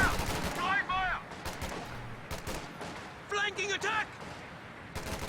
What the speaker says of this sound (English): Rifles engaging Fallschirmjäger at long range.